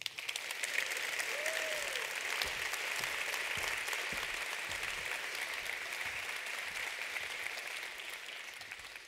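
An audience at a talk on cities applauds in a steady, dense wash of clapping that stays even for several seconds before slowly thinning, with a faint voice briefly audible early on.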